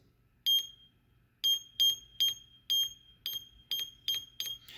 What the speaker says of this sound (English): our load is going to be the buzzer here, the piezo buzzer